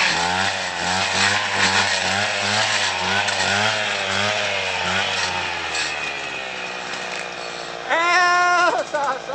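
Brush cutter motor running loud and close at a ranch, its pitch rising and falling as the engine revs, with a sharp high whine near the end.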